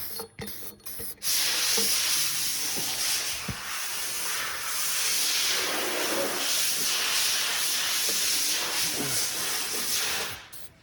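Aerosol can spraying black paint onto welded D-ring hooks on a skid steer, a loud continuous hiss for about nine seconds after a couple of short clicks and bursts, close up and without talking.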